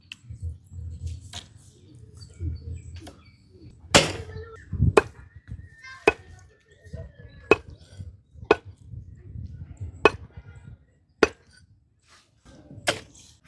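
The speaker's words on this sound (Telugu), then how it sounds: "ఫైనల్గా తలకాయ ముక్కలు కొడుతున్నా" Large tuna fish head being chopped into pieces, a series of sharp, loud blade strikes at irregular intervals, with low murmuring voices in the background.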